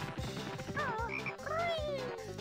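A cartoonish frog croaks repeatedly in the video game Banjo-Kazooie, with bouncy, pitch-bending calls over a rhythmic game music backing, clear and prominent.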